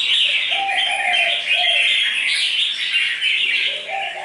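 A red-whiskered bulbul sings continuously at close range, its bright, warbling phrases repeating without a break.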